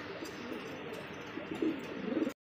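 Afsan grizzle racer pigeons, big-sized birds, coo in a soft, steady low murmur that swells into a louder burst of coos near the end, close and alone.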